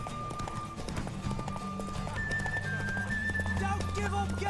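In The Witcher 3, a horse's hooves clip-clop in a quick galloping rhythm, close and steady, with background music and a few short neighs mixed in.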